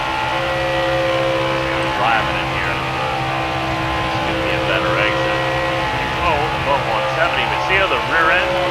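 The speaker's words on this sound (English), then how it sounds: "That's wheel spin." Race car in an ARCA racing video game at Texas, its engine droning steadily with a rising whine as the rear wheels spin, under someone talking throughout.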